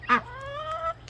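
A rooster-like chicken lets out a single loud, honking cluck followed by a drawn-out strained call, close by over faint background noise.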